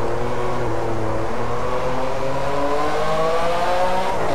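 A Ferrari F50 engine in the racing game Driveclub revs steadily with rising and falling harmonic tones, loud and continuous, with no talking.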